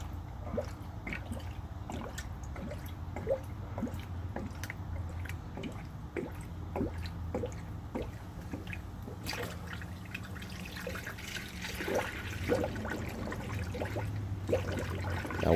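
Coolant draining from a Subaru radiator into a funnel: a steady, close trickle with irregular drips and gurgles, continuous for about fifteen seconds and growing slightly louder near the end.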